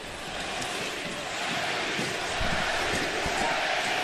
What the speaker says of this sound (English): the crowd is chanting Ilya Samsonov